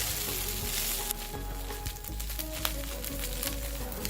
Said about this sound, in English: fry it for 2 minutes